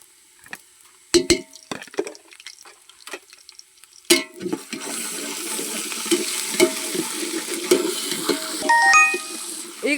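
Onion with ginger garlic paste roasting in hot oil while being prepared for chicken gassi, starting with a few sharp stirring clinks and then settling into a steady sizzle with occasional utensil scrapes.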